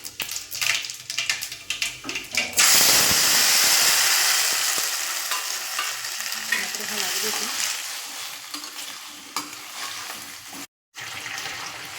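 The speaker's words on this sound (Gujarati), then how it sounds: "તો મેં આ લઈ લીધું છે રાઈ, જીરું અને મેથી વઘાર કરવા માટે।" Mustard seeds, cumin and fenugreek sizzle loudly in hot tempering oil, with a bright, hissing crackle that rises suddenly and holds steady before a short break.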